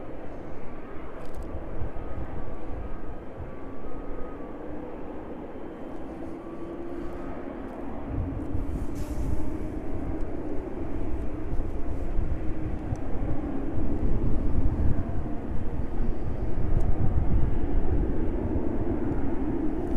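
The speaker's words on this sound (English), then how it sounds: "777 arriving onto stand." A Boeing 777 taxis onto its stand at East Midlands Airport, a steady broad engine rumble and whine that builds gradually and holds near and loud throughout, with no talk.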